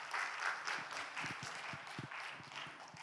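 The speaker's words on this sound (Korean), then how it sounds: "칼라 멋있다고 생각하시는 분 한번 박수 한번 쳐봐요" A church congregation clapping at a Sunday evening service: a soft wash of scattered applause with a few louder individual claps standing out near the front, brief and fairly faint.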